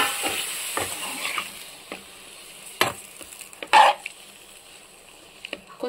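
Tomatoes cook in about a teaspoon of oil in a pan, a quiet close sizzle broken by several sharp stirring scrapes and clacks of a spoon against the pan.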